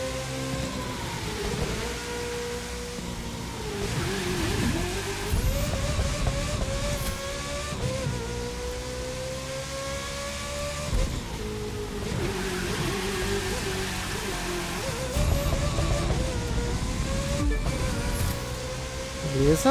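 A racing car in The Crew 2 driving on a wet track in the rain, with its engine revving up and down through shifts over a steady hiss of rain, loud and continuous.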